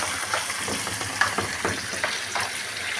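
Curry leaves sizzle and crackle as they hit hot oil in a frying pan, a steady close hiss with small pops and stirring, with no talking.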